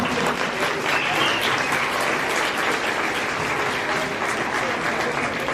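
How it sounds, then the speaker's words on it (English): Dense, steady applause from the audience fills the hall at a school band and chorus fall concert, holding at an even level without any voices. "Yes, you may clap."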